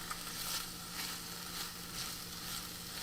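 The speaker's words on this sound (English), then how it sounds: "the nice sounds of like these onions sizzling" Steady crackling sizzle of onions frying in a pan, continuous and fairly close, with small pops and no voices.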